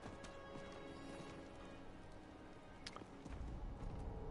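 A summoned horse arrives in the video game Diablo IV, with hoofbeats that swell from a steady rumble to a louder, closer clatter near the end.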